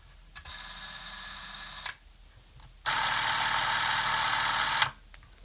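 An 8mm film movie camera whirs loudly as its motor runs in two bursts, a shorter one and then a longer two-second run, each starting and stopping sharply with quiet room tone between.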